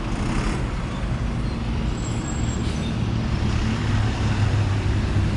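Cars and buses roll past on a busy street near Macau Tower at night, a steady dense rumble of engines and tyres that swells slightly as heavier vehicles go by, fairly loud and continuous, with no talk.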